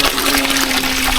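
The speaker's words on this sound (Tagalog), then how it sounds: "Ayan yung tubig." Running water from a local drinking-water source rushes close by in a continuous, loud stream. A constant low hum sits under it and there is no talking.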